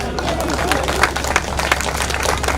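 An audience at a Hindi kavi sammelan poetry event claps loudly and densely, a steady wash of applause with crowd murmur throughout.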